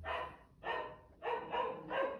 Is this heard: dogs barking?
yes